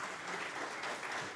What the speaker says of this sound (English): let's put our hands together and begin this beautiful morning with a huge round of applause